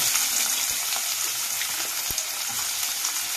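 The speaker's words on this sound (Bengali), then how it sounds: "পেঁয়াজটা লাল করতে থাকছে।" Onions frying in hot oil in a pan for soybean malai curry, a dense, steady sizzle heard up close with a few faint clicks of stirring, no talking.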